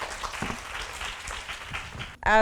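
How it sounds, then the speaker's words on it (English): An audience applauds steadily with dense, even clapping after project presentations at a pageant event, then a voice begins speaking right at the end. "Please give a round of applause."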